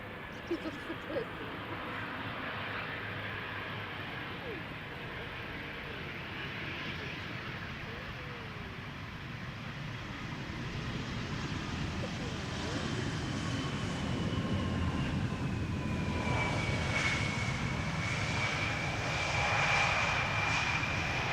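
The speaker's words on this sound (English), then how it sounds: "This is KLM flight 1710. It is an Embraer 175 arriving from Luxembourg." A KLM Embraer 175 jet arriving at Amsterdam Schiphol Airport, its engine roar building steadily from a distant rumble to a louder, closer whine with rising tones, heard outdoors without talk.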